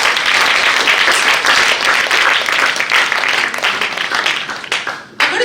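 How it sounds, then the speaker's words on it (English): An audience at a youth achievement award ceremony gives a sustained round of applause, dense and even clapping from many hands that fades out near the end. "I think that requires a big round of applause."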